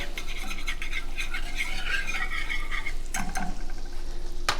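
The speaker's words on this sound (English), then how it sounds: "You just want to chop it real slow or real small and then simmer slowly like I am right now." Finely chopped ingredients simmer in a pan for pan-seared lingcod, a steady close sizzle and bubbling hiss running throughout, with a brief clatter of a utensil near the end.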